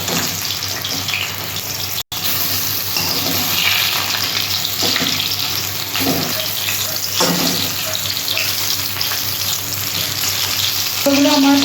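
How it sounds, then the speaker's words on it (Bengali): Ridge gourd fritters fry in hot oil while being flipped, a steady close sizzle broken by scraping and stirring clatters, with a short gap partway through and no speech over it. "1 পিঠ হয়ে গেছে, আমি আর 1 পিঠ উল্টে দিচ্ছি।"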